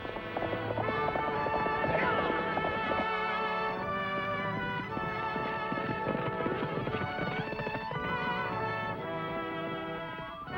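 Horse hooves clop along in a steady rhythm beneath continuous orchestral music, moderately close.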